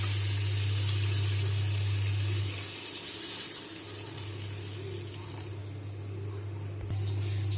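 Water pours steadily into a cooking pot of simmering pumpkin-leaf curry with a continuous rushing, splashing sound over a low hum, ending with a faint clunk.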